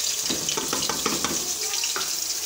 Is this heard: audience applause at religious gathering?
no